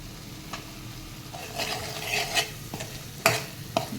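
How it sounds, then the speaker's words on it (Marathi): Potatoes are sautéed in a pan for a simple cauliflower-potato curry: a low, steady sizzle runs throughout, broken by several sharp scrapes and clinks of a spoon stirring against the pan, close up. "बटाटे आता आपण एखाद दोन मिनटं परतून घेऊयात"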